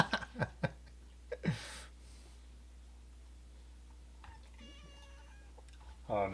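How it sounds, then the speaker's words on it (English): Indoors in the dark, a cat lets out a clear drawn-out meow followed by a shorter one, amid faint room noise, scattered handling clicks and quiet voices. "Oh, now he's meowing."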